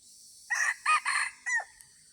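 A jungle fowl rooster crows once, a loud multi-part call rising and breaking off, heard clearly with no other sounds around it.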